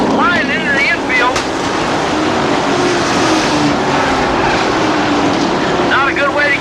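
Pro trucks racing around a circuit, engines roaring loud and steady with whining passes and a crowd-like wash, while an announcer talks over the noise throughout.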